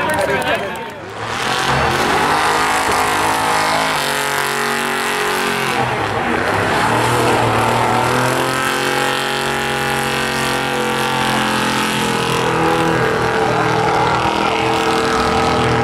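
Dodge pickup truck with nitrous racing a rival at a night spectator drag event at Beech Ridge, engines revving and roaring loud and near with shifting pitch, an announcer talking over the noise.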